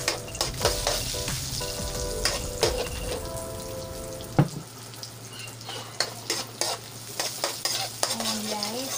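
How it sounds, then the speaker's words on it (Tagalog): Garlic fries with spicy seafood and corn in a hot pan, crackling and popping loudly and unevenly, with scraping stirs, a clatter, and steady oily sizzling throughout. "Ilalagay ko na rin po yung garlic."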